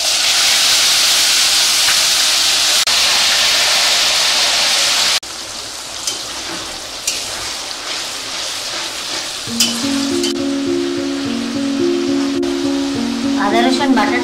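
Onion paste hits hot oil that already holds turmeric and whole spices, bursting into a loud hissing sizzle that drops suddenly to a quieter crackle under a voice.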